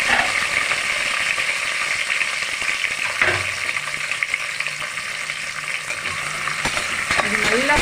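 Sliced onions fry in hot oil for egg biryani, a steady dense sizzle holding throughout with faint stirring clinks of a spatula against the pan.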